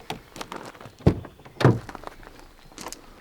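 The rear door of a Hyundai Ioniq 5 electric car opens with a pair of solid thunks and light clicks of the latch and hinge, close and distinct, with no talk over it.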